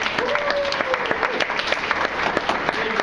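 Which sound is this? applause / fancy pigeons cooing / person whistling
applause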